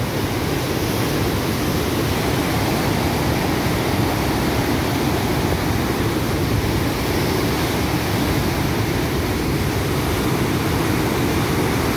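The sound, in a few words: fast-flowing water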